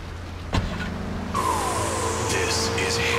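Car driving in Grand Theft Auto III Definitive Edition, a steady engine drone with a sharp click and a rising whine as the vehicle gets underway, continuous and fairly loud.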